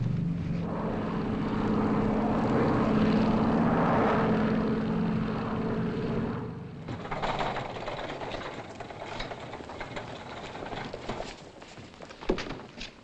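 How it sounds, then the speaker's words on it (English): Propeller airplane engine during a landing approach: a steady, loud droning hum that eases off partway through and continues more faintly, with no talk over it. "We're in the landing pattern now."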